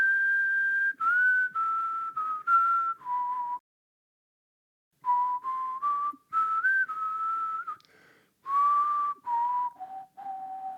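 A person whistles a jazz standard melody in clear, sustained phrases with short pauses between them, one long gap in the middle, close and solo with no other sound.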